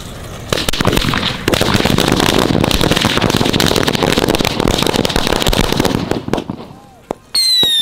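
Firecrackers and fireworks burst during a Dussehra Ravan effigy burning. Dense, loud crackling volleys of rapid pops run continuously for several seconds, then thin out and stop, and voices chatter faintly underneath.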